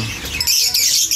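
Pet finches kept in a cage chirp in short, close, high tweets that run steadily through the whole moment, with no one speaking.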